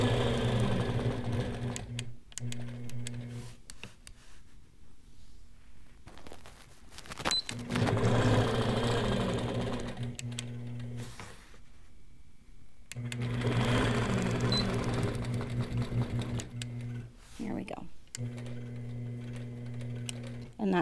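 A sewing machine stitching a quilt block for a Churn Dash quilt with a quarter-inch seam, a steady close mechanical whir that starts and stops in several runs, with someone talking over it.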